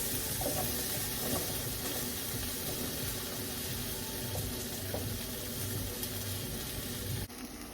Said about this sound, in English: you're gonna put the onion and you're just gonna let it saute